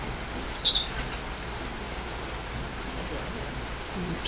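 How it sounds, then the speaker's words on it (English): Rain patters steadily on a gazebo roof as a soft, even hiss with a brief bird chirp near the start. "Now she's just enjoying the sound of the rain on the gazebo"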